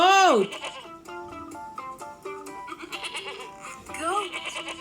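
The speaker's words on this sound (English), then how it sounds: "Goat. Goat." Goat bleating in a children's farm-animal lesson, a wavering nasal cry at the start and again near the end, close and clear, separated by a stretch of tonal background sound.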